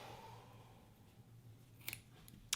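Scissors snip through knitting yarn while finishing shoulder shaping on a cropped pullover sweater, two or three short, crisp cuts close up near the end of a quiet stretch.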